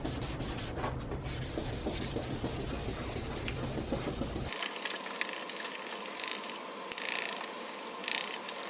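Steady abrasive rubbing as a plastic car headlight is sanded with a $15 restoration kit, continuous and close, changing character partway through as the strokes shift.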